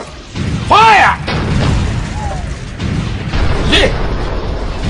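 Cannon fire strikes a tank in a war film, giving one heavy, short boom near the start. Someone speaks over the continuing battle din of the scene.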